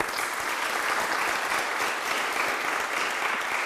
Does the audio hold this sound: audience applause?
yes